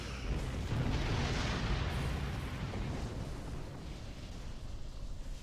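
Starship weapon fire in the Star Trek Online video game, a loud sustained rumbling barrage of booming blasts with no voices.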